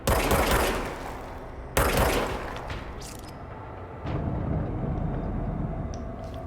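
Loud gunfire in the video game Control: two big blasts with dense bursts of rapid shots rolling into a sustained roar that carries on to the end, close and alone with no talk.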